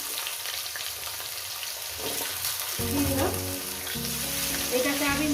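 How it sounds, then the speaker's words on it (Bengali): Potatoes fry with banana flower in a pan, a steady close sizzle that grows louder and busier with stirring partway through, with a few spoken words near the start. "মিনিট চারে ধরে ভেজে নেব চার পাঁচ মিনিট ধরে ভেজে নেব"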